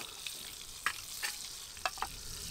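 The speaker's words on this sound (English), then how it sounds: "when it starts sizzling, we're going to drop this on about half" Butter heats in a Trangia mini pan over full flame, giving a steady soft sizzle with a few sharper crackling pops. The frying is close and quiet, with no voices.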